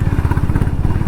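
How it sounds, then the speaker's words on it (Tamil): A Honda CB350RS motorcycle sends out a loud, close exhaust note with a rapid, even low thump, steady across a short stretch with no talking. "அந்த வண்டியோட எக்ஸாஸ்ட் நோட்டு தான் எனக்கு ரொம்ப பிடிச்சிருக்கு"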